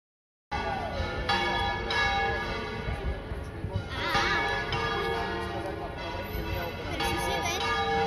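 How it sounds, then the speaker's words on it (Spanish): A bell rings richly with layered overtones and several struck peals, close and loud, over a busy background that sounds like bleating animals. "Nos despedimos con el sonido de campana."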